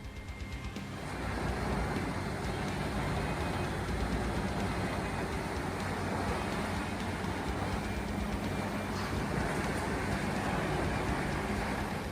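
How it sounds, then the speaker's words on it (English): A Vermeer HG6800TX horizontal grinder with a 1050 horsepower engine runs at full load clearing land, a loud, dense, continuous mechanical roar with no pauses. "machine that boasts an incredible 1050 horsepower engine, capable of processing over 200 tons of material per hour"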